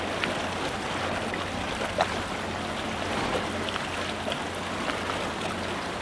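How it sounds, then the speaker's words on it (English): Water lapping in a harbor in Palau, near a snorkeling area across from town, heard as a steady soft wash with faint trickles and small splashes throughout, fairly close, with no talking. "You can probably hear the water."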